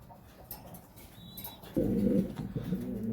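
Maltese pigeons coo in a coop, a low throaty rolling burst near the end over faint background rustling and flutter, fairly close.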